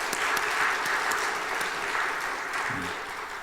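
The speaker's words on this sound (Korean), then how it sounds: "감사의 마음을 박수로 한번 잠깐 표현했으면" A church congregation applauding during a Sunday service, a steady wash of many hands clapping that holds evenly throughout and fades slightly near the end.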